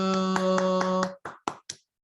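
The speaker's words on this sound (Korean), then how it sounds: "하나님께 영광의 박수" Children in an online Zoom church service clap for God. A sustained tone gives way to a few scattered, sharp, separate claps that quickly die out.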